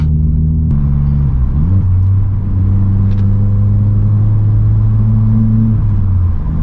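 Vauxhall Corsa engine droning steadily from inside the car while driving, a low loud hum that shifts pitch with gear changes near the start and again toward the end, heard alone without talk.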